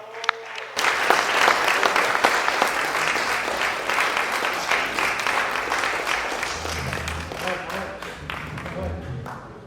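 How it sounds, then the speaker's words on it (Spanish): An audience at a formal judicial event in Cuernavaca breaks into sustained applause: dense, close clapping begins after a short pause, holds strong, then gradually thins toward the end. "Y haría un aplauso por su buena organización, ¿no?"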